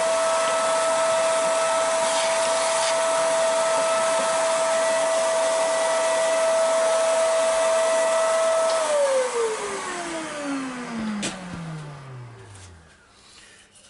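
A woodturning lathe spins a wooden pencil box while its inside is hollowed, giving a steady, loud motor whine with a constant tone. It then winds down, the pitch sliding lower as the spindle slows to a stop.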